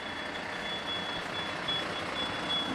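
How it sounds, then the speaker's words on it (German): A fire engine's reversing alarm beeps in a steady, evenly spaced high tone over a low idling truck engine and street hum, moderately distant at a police call-out in Hamburg. "Erst jetzt trifft das erste Löschfahrzeug ein."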